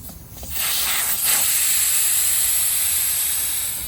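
Air hissing out of a Willys CJ2A jeep tire once the valve core is pulled, a loud, close, continuous high-pitched rush that starts within the first half-second and holds steady, alone without voices.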